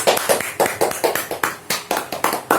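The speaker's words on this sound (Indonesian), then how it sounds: "Oke, tepuk tangan dulu untuk kelompok 5." Classroom applause for a student group, a steady run of sharp hand claps from a small group, close and fairly loud, with no talking over it.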